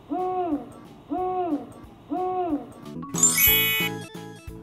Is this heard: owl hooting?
yes